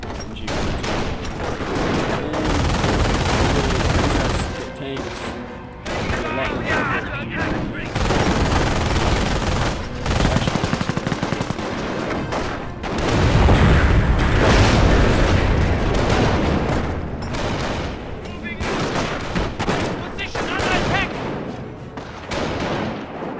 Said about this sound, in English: Of course, we're going to have a machine gun.